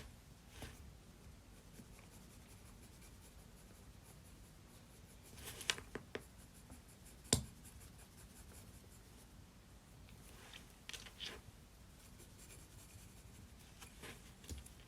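A pencil draws a nose on paper during a portrait sketch, producing soft, close scratching strokes with a few sharper taps and scrapes, quiet and without talk.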